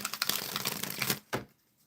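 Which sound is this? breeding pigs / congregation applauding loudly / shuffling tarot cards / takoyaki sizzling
shuffling tarot cards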